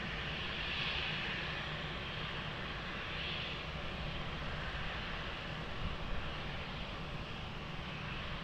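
An airliner powers up for takeoff on a runway at Lisbon Airport, a broad steady engine roar heard from a distance, continuous and even throughout.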